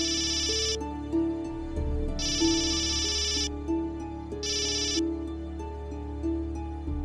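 A phone ringtone rings in three repeated bursts of bright electronic tones, with a steady melodic background and no talking.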